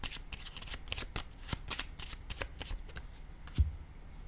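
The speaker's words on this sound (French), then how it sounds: "Sur le changement, je vais piger une autre carte." Tarot cards being shuffled and drawn by hand, a close, quiet run of crisp riffling flutters and soft slaps with a brief thump near the end, no voices.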